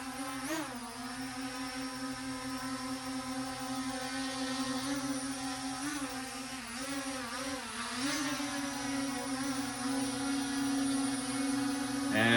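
A TizzyToy BL01 drone taking off on its own and hovering, giving a steady high whirring buzz of spinning propellers that holds at an even, fairly close level throughout with small shifts in pitch.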